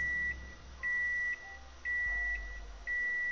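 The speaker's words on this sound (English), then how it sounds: "Stop beeping." Repeated electronic beeps from a hardware puzzle in the Biomutant video game, four bright tones in a steady on-off rhythm, each lasting about half a second, clear and close over a quiet game background.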